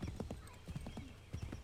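Horse hooves in the Assassin's Creed 3 video game, a steady clip-clop of repeated hoof strikes at a close, moderate level, with faint background sound.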